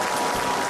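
A studio audience applauding on a television talk show, a dense steady wash of clapping heard close and continuous through the whole short moment.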